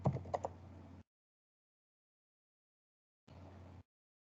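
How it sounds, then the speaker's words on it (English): A computer keyboard being typed on, heard as a short burst of quick clicks followed by silence and then a second, briefer patch of keystrokes over a steady low hum. "if I type here"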